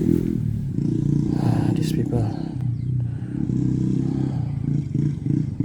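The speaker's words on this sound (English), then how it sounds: "always like to make their motorcycle so loud" A loud motorcycle roars past, its engine rumble rising and falling over a few seconds, while someone talks over it.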